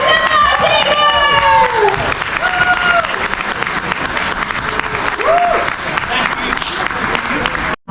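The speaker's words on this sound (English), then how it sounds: "Can we have a massive round of applause for David Brown and Mighty Boosh?" Loud crowd applause and cheering at a Scarborough entertainment show, with whistles and shouts over continuous clapping and a few voices rising above the noise.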